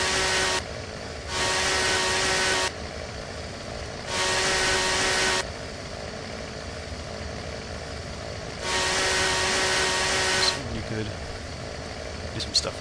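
A chainsaw revs in the video game Silent Hill 4: The Room, coming in three long, loud bursts that rise and cut off, with a steadier low hum and quieter gaps between them.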